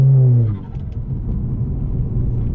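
An Audi fitted with a throttle controller accelerates, its engine rumbling with a brief rising rev at the start before settling into a steady, close, low drone.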